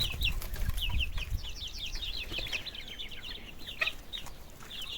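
Chickens bred from broiler crossbreed hens cluck and peep in a coop, with a steady chatter of high calls and occasional rustles or wing movement, close and moderately quiet.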